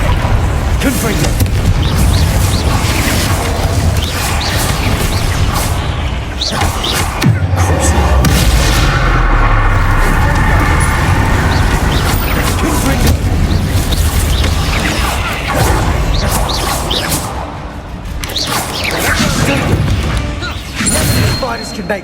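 Fire-spell explosions from Confringo in the action game Hogwarts Legacy boom and crash repeatedly amid dense, loud combat noise, with a sharp impact around the middle and a continuous rumble throughout, while voices speak over it.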